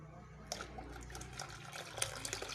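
Water poured into a kadhi mixture in a pot, a steady close splashing pour starting after a brief quieter moment and continuing with rising loudness.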